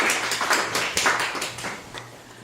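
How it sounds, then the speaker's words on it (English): A short burst of audience clapping during a talk, several distinct hand claps near the start thinning out and fading over a couple of seconds. "You can clap right there"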